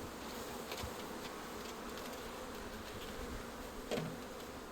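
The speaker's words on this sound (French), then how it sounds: "c'est un petit essaim de 2 kilos, mais c'est bien" Small two-kilo swarm of honeybees being rehived, a steady close buzzing drone of many bees with a few sharper passes near the microphone, without talk.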